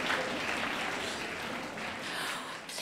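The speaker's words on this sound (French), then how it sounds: "vous pouvez applaudir" Audience applause at a climate-action event on new generations, a steady, dense wash of many hands clapping close by that holds for the whole stretch with no voices over it.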